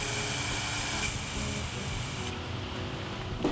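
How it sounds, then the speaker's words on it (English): An aerosol spray paint can is held upside down and sprayed to purge its nozzle, giving a steady close hiss that runs unbroken for a few seconds with a slight dip near the end. "When you finish with a color, hold the can upside down and spray it to clean out the nozzle."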